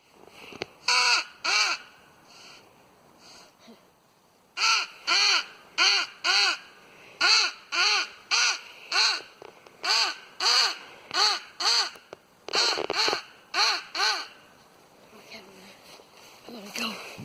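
Crows caw loudly and repeatedly in answer to a Nordik crow call, a steady run of harsh outdoor calls in bursts with short pauses between groups.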